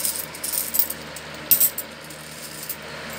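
Loose coins from years of saved change clink and drop in irregular bursts, with sharper metallic rattles near the middle and end, close and moderately loud with no talking.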